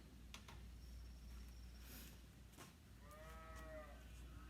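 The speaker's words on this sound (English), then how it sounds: "It's a cow." A faint, distant cow moos once near the end, low and drawn out over steady outdoor background noise on a farm.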